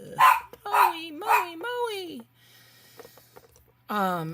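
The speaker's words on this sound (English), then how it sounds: "There goes my dog." A dog nearby lets out three sharp barks that stretch into a long, whining yelp, then falls quiet before a person's voice briefly comes in.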